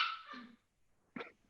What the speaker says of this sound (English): You hear that puppy?